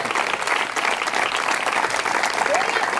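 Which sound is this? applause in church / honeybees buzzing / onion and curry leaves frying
applause in church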